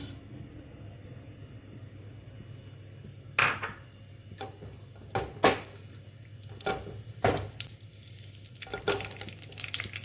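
Mustard seeds crackle and pop in hot coconut oil in a pan, a scatter of sharp, irregular bursts that grow busier over a low steady sizzle, with faint utensil clinks.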